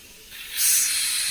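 A pressure cooker releasing steam, a soft hiss that swells abruptly into a loud, sustained rush of vented steam, close by and without any talk.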